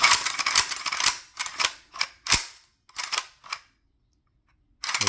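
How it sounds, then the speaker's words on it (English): Bolt of a Meridian AK-101 rifle being racked repeatedly, a series of sharp metallic clacks and slides close up, in uneven bursts with brief pauses and a longer gap near the end. "And then racking the bolt."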